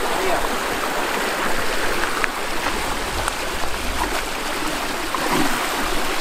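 A very large river flows steadily, with a loud, continuous broadband rush of moving water filling the whole stretch close to the listener and no clear pauses.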